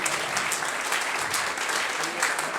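A crowd claps steadily throughout at a cycling club awards night, a dense, even patter of many hands with no voices standing out.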